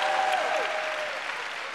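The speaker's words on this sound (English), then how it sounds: "You should clap for me right there." An audience applauds during a speech, a dense, steady wash of clapping that fades slightly toward the end, with a brief vocal tone at the start.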